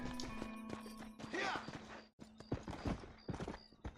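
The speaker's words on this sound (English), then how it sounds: "Let's get on horsey." Horse hooves clip-clopping in the video game Red Dead Redemption, a quick uneven run of close hoof clops with a whinny, briefly cutting out before resuming.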